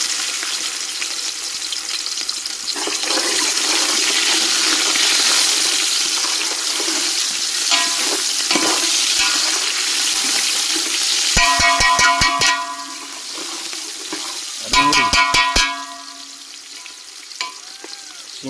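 Cumin and onion frying in hot oil for a soybean biryani, a loud, steady sizzle running throughout, with bursts of scraping stirring and clinking near the end, and no voices.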